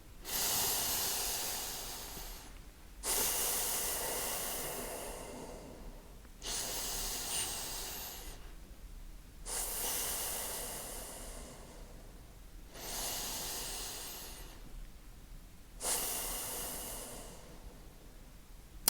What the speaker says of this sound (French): il y a quelque chose où vous avez besoin de le faire, et ça, c'est de prendre 3 respirations profondes